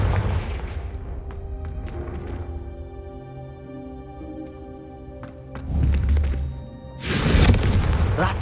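Confringo fire spells in the Hogwarts Legacy video game burst into loud booming explosions, a cluster near the start and two heavy blasts at the end, over a layered musical game score.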